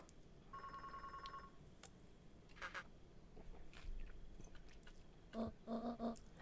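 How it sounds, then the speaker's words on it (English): A telephone rings in the video game Beacon Pines, a bright repeated electronic trill in short bursts over a soft low game-music bed, followed by a few clipped tonal blips. "She's making a phone call."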